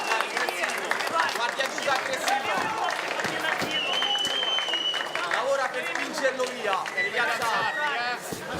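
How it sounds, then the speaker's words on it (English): Spectators at an amateur MMA World Cup bout cheer and murmur loudly as the fighters grapple on the mat, a sustained roar of voices and scattered clapping with shouts rising throughout. "The crowd responds."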